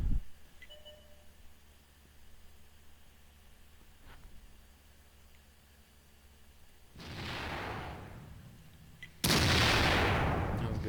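Tank cannon fire in a World of Tanks-style battle with a Leopard 1, two loud broadband blasts in close succession, the second sharper and sustained, following a quiet stretch of ambient battlefield noise.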